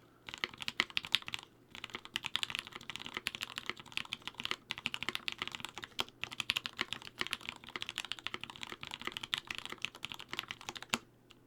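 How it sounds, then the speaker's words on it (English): Continuous, brisk keyboard typing with clicky keystrokes at a moderate, even force, close up and with no voices. "That's typing normally."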